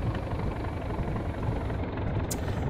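Steady, loud drone of a Class 37 diesel locomotive engine working under throttle on the Inverness to Kyle of Lochalsh line in a train simulator game, a continuous low rumble with no talking.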